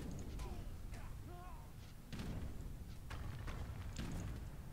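An Agra fort comes under attack in Age of Empires III, with scattered booms and cannon-like shots over a low rumbling battle bed, and faint voices in the mix.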